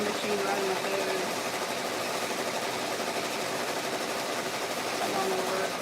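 A sewing machine runs continuously at a steady pace during work on Etsy orders, a constant whirring drone with a faint voice underneath.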